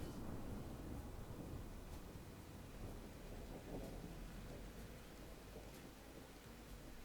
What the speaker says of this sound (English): We've got quite a storm going.